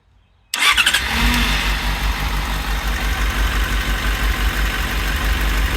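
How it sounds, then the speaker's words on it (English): A 2008 Yamaha FZ6 motorcycle engine starts abruptly after brief quiet and settles into a close, loud idle with a slightly uneven, pulsing rhythm. "It does have a fairly steady idle. It sounds just a little uneven."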